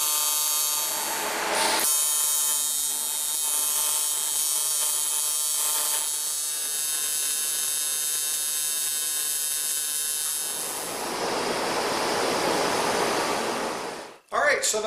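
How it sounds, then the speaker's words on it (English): Aluminum TIG welding a cap onto a homemade rocket motor casing gives a steady, high buzzing hiss with a few breaks, heard close and alone, before a whooshing burst and a clunk near the end. "he's going to aluminum TIG weld the cap to the casing"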